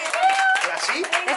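Brief scattered clapping from a small group at a Thanksgiving dinner table, with voices talking over it.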